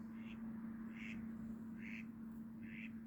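Four short nasal duck quacks at a steady pace over a constant low hum, moderately distant, at a partly frozen lake in winter.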